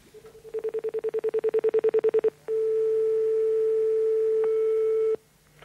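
A telephone keypad answers a press of the hash key: a rapid series of about twenty short pulsed beeps, then a long steady tone held for nearly three seconds before cutting off, clear and close with no talk.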